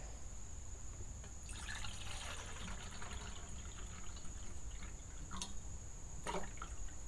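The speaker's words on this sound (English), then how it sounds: "I'm going to go ahead and just add some water from my canteen here." Water pouring from a canteen into a pot in a soft, steady splash for a few seconds, followed by a couple of faint drips and clinks, recorded quietly outdoors.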